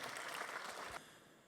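Applause from an audience at a school graduation dance hall, a dense sustained clatter of many hands that cuts off abruptly partway through, leaving a fading reverberant tail.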